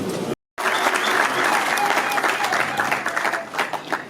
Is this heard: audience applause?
yes